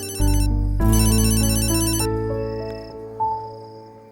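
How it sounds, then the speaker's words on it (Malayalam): An electronic phone ringtone trills in repeated bursts, loud and close, followed by a fading tonal tail, with no talking. "വിആർജിയുടെ ഫോണിനായി കാത്തിരിക്കാ ഞാൻ"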